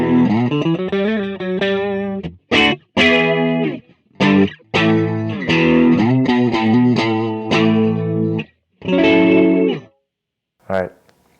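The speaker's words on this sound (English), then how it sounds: "I believe it's supposed to emulate a Vox 30 amp or something." A Donner MultiPad-100 multi-effects unit on a channel emulating a Vox 30 amp plays clean, bright guitar notes and chords in short phrases separated by gaps, with chorus-like shimmer and reverb, close and fairly loud.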